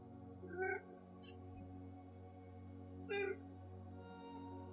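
Two short cat meows, one early and one about three seconds later, heard over a steady low hum in an otherwise quiet room.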